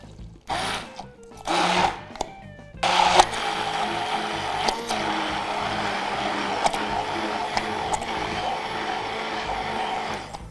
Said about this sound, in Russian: Берем блендер и пробиваем до однородной массы.